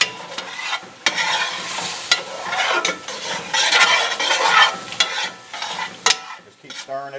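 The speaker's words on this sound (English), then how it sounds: "Just keep stirring it, let that wine reduce." A spoon stirs Cabernet wine through a hot, sizzling pan to deglaze the browned bits from the bottom, with steady frying hiss and repeated scraping strokes against the metal, close and clear, with no talking.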